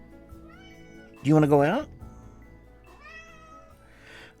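A house cat gives one loud, drawn-out meow up close, with fainter mews before and after, while a person talks to it softly.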